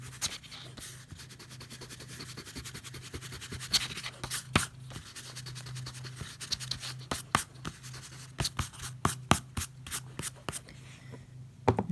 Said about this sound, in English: Just going to erase my pencil marks here.